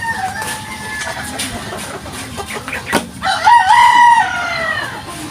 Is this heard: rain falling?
no